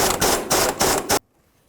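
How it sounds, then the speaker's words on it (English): A 19 mm socket ratchet, with a wrench on the back side, works a strut bolt loose on a 2005-2009 Subaru Outback, giving three or four close, loud ratcheting bursts that stop abruptly. "So 19 millimeter socket and a 19 millimeter wrench on the back side."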